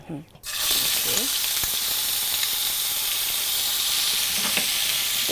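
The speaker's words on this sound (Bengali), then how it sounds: "একটু ভেজে নেব" Onion paste frying in hot oil, about a third of a cup, sending up a loud, steady broadband sizzle that starts abruptly after a brief quiet moment with a few faint voiced sounds, then holds constant to the end.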